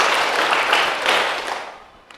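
A group clapping together in a rhythmic clap pattern at a Father's Day parenting event, a dense loud burst of hand claps that tapers off toward the end.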